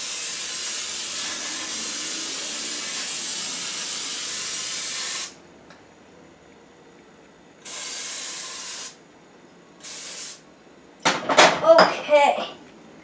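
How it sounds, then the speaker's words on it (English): Pan cooking spray hisses in long steady bursts into a large bundt cake pan for a cream cheese pound cake, one extended spray followed by two shorter ones, then some clattering of the pan at the end. "we're going to be using Pan today as our spray. First, we just need to spray everywhere."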